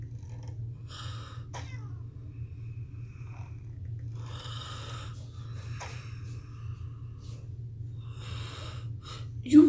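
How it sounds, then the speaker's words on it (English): An animated cartoon cat purrs in a low, steady, continuous rumble, broken by several short, soft vocal chirps and noises on top. "I have a cat."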